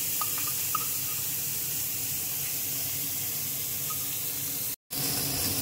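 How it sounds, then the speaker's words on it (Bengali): Small mourola fish sizzle in hot oil in a frying pan, a steady close hiss of frying that continues throughout with one brief cut-out near the end. "তেলটা আমার গরম হয়ে গেছে, এবার আমি মাছগুলো দিয়ে দিচ্ছি।"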